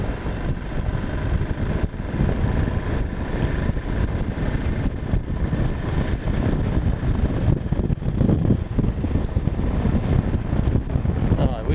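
A small motorbike riding along on a Himalayan road, steady low engine drone buried under constant rough wind buffeting the microphone, loud and continuous throughout with no break.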